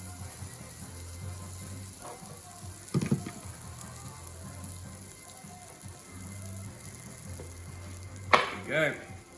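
Bread for a Reuben sandwich frying in a warm buttered pan, a soft steady sizzle beneath low background hum, with a couple of brief clatters from utensils.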